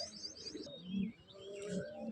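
Pigeons from a running pair, a male and a female, coo in low repeated bursts close by, with lighter chirps and rustling around them and no talk.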